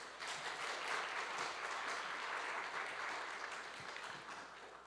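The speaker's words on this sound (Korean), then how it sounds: "박수 쳐주셔서 너무 감사드립니다" A church congregation applauds warmly for several seconds, a soft, dense wash of many hands clapping heard from some distance and fading slightly toward the end.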